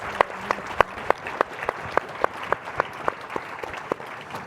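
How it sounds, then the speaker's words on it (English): An audience at a writers' conference reading claps for the readers, a sparse, sharp patter of hands with distinct individual claps, fairly soft and unaccompanied by talk. "Can we get a round of applause for all of our readers?"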